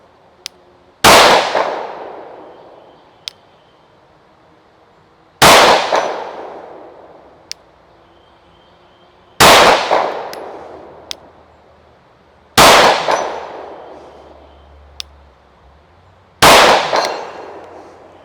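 Five sharp gunshots, evenly spaced a few seconds apart, each followed by a ringing clang as rounds strike a steel target at about 100 yards, fired through a Swampfox Raider 1X prism sight; loud and close with no talking.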